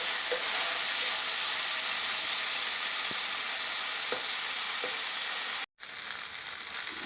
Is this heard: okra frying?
yes